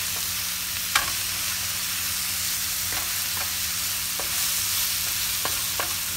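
Food frying in a pan over medium heat is stirred for spaghetti sauce, giving a steady sizzle with a few sharp utensil scrapes and taps, close and alone without talk.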